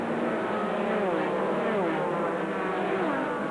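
Race cars, including a Viper, roar past on a circuit during a 2000 FIA GT race, with a dense, loud engine blare and rising and falling pitch sweeps held steadily throughout.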